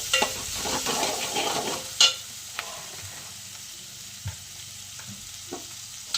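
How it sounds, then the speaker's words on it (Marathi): Onion and bay leaf frying in a pan for a chicken curry gravy, a soft continuous sizzle with occasional clinks and scrapes of stirring. "चला तेजपत्ता टाकूया थोडासा, कांदा, शिजवून घेऊया."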